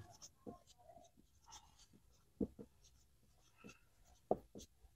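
Pen or marker writing on a board during an ICT lesson on hexadecimal-to-decimal conversion, with scattered short scratchy strokes and taps, two louder knocks near the middle and end, moderately close and fairly quiet.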